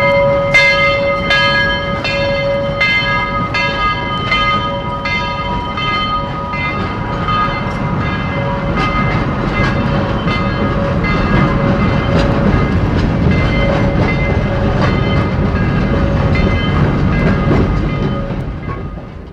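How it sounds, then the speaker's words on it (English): A little train running through the Purdue University campus rumbles loud and steady for about twenty seconds, with repeated ringing bell strokes and clanking over the rolling noise. "Each is as characteristic as the little train which runs through the campus."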